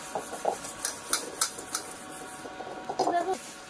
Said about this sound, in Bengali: বসে বসে বাসন মাজতে কত কষ্ট।